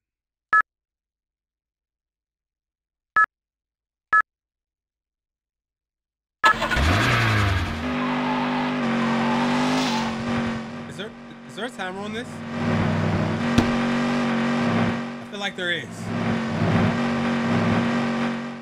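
A car in GTA Chinatown Wars starts after a few sharp clicks, then its mid-pitched engine runs and revs continuously under a person talking.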